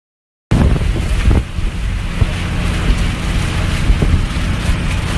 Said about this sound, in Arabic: والموج بس لا زال جدا عالي الله يستر